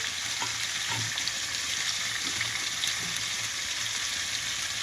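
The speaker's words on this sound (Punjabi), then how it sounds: "ਇਹਨੂੰ ਪਹਿਲਾਂ ਥੋੜਾ ਜਿਹਾ ਫਰਾਈ ਕਰ ਲਾਂਗੇ" Vegetables frying in a pan on the stove give a steady, close hiss of sizzling that holds at an even level throughout with faint crackles.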